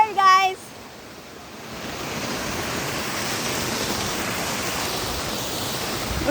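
Rushing water from a waterfall roars up close as a bridge walker is sprayed, a steady broad hiss that swells after a short voice at the start.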